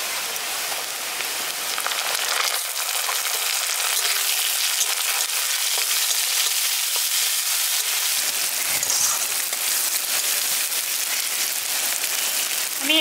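Chopped tomato hits hot oil with ginger, onion and green chili for a village-style rohu fish curry, giving a loud, steady sizzle and crackle that sounds like heavy rain, with occasional stirring scrapes.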